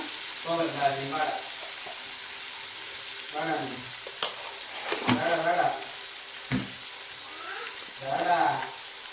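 Chili powder stirred into a frying pan of softened tomato over a low flame, with a steady soft sizzle under repeated scraping stir strokes, and a few louder clinks of the spoon against the pan.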